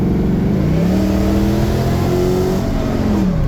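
A 1954 Chevy 3100 pickup truck with a newly swapped engine that has two extra cylinders revs hard under acceleration, a loud steady rising drone that carries alone for several seconds.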